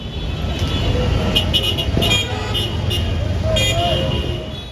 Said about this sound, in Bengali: সারাক্ষণ হর্নের তীব্র শব্দে অতিষ্ঠ পথচারী যাত্রী ও আশপাশের মানুষ